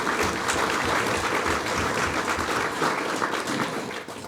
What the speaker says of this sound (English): So give yourself a round of applause for getting through the last 2 years.